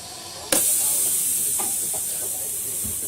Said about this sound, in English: Now we're getting some air in there.